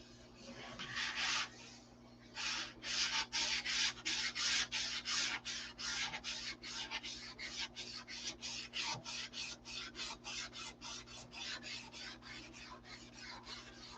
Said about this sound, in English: I need to quit sanding there.